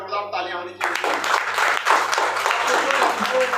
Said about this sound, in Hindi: रामोतार सर एक बार जोरदार तालियां होनी चाहिए।